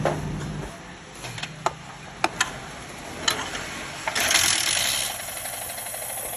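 Yamaha Sniper 150 motorcycle with missing internal parts: a few sharp mechanical clicks and ticks, then the engine catches in a brief burst of running noise before settling back.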